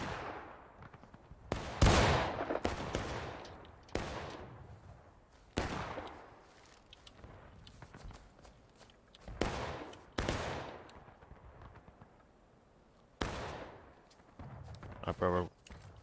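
Scattered gunfire at a Civil War reenactment skirmish on Hagerstown Turnpike, heard as a series of sharp individual shots and small volleys spaced a second or two apart, with people shouting and talking in between.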